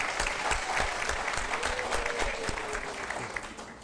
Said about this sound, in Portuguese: palmas para vocês mais uma vez